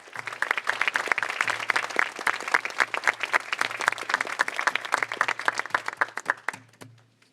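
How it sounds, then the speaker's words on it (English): Audience applause for a speaker at an opening-remarks session: dense, steady clapping from a crowd lasting about six seconds, then quickly thinning out and stopping. "So let's give her a round of applause."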